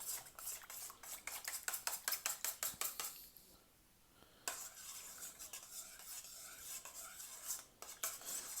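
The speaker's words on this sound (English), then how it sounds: "just give it a little bit of a mix." Yeast being stirred into 150 ml of warm milk in a bowl for naan dough, a quick run of rhythmic scraping strokes, a brief pause, then more irregular stirring and clinks, close and fairly quiet.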